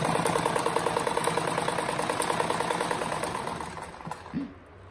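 A sewing machine stitching a patchwork rug runs with a rapid, steady mechanical rattle close by, then slows and fades out near the end.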